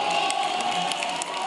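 A crowd of PRI party supporters at a Mexican political event cheers and applauds continuously, a dense, loud wash of clapping and shouting throughout.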